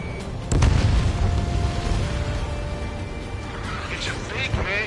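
Missile detonating in the air combat game Ace Combat 7, a deep booming blast early on that rumbles and fades beneath radio chatter and engine noise.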